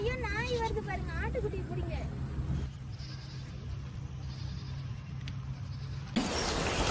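A lamb bleats several times in wavering cries near the start, close and clear, during an outdoor trip for a marriage shoot, followed by a stretch of steady background noise and a burst of rushing sound at the end.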